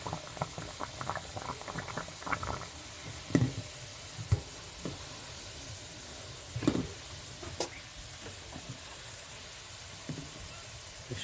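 Water boiling hard in a pot with silver in it, a steady bubbling patter with scattered knocks and pops, heard up close with no talking.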